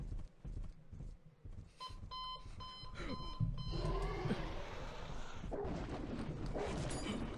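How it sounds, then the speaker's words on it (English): An alarm clock rings with repeated tonal beeps amid busy, layered sound and a clopping rhythm, moderately loud, during a livestream reaction. "Alarm clock went off."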